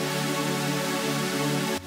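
Future bass chord stack with its filter fully opened, giving a bright, full sustained chord that holds steady and cuts off abruptly at the end.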